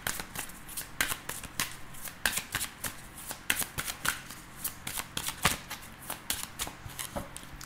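Tarot cards shuffled by hand at close range, a quick run of crisp riffles and slaps in an uneven rhythm with no talking.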